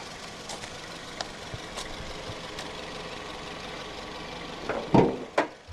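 A 2015 Toyota Vios 1.5-litre naturally aspirated inline-4 petrol engine with VVT-i and multi-point injection idles quietly and evenly, a soft steady hum broken by a few light clicks and a brief louder thump near the end.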